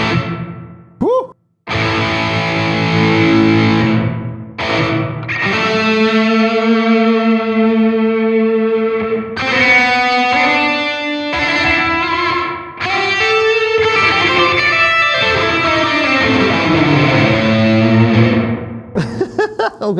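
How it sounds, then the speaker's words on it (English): Distorted electric guitar plays through an ENGL Ironball SE amp with reverb, sustained chords and notes ringing out loud and close, with brief pauses and a short burst of knob-turning noise near the start. "So this is the only control for the reverb we have."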